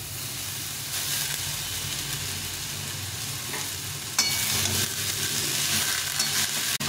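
Fenugreek greens fry with salt and turmeric in a pan, a constant close sizzle and hiss broken by scraping stirs, growing a little louder partway through, with no one talking.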